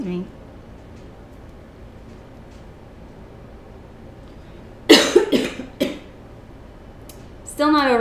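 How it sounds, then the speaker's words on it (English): A woman coughs several times in a quick, harsh burst mid-clip in a quiet indoor room, then clears her throat. She begins talking at the end. "Still not over this cough yet"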